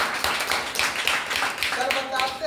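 An audience claps loudly and steadily at an Independence Day gathering, a busy, close patter of hands across the whole moment with some voices mixed in.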